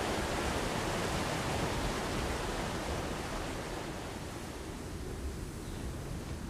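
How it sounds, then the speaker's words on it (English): A small waterfall in the Ark video game's Fjordur map gives off a steady, even rush of falling water, heard alone without talk at a moderate, constant level. "little waterfall area."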